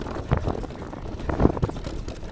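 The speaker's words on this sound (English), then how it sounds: "You can probably hear the suspension working hard" Suspension on a Privateer E161 e-MTB with 160 mm front and 170 mm rear travel and downhill-casing tyres, thumping and clattering over a trail, irregular bumps and knocks under steady wind rush.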